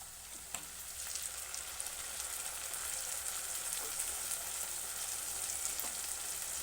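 Tomato puree fries in a pan for a rajma masala curry, giving a steady close hiss and sizzle with a few soft spatters and light stirring, no talk.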